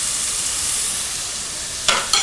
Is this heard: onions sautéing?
yes